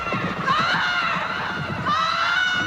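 A woman's sustained, wavering scream from The Barbarians, loud and continuous, sliding in pitch with a break in the middle and rising again under a dense, noisy background.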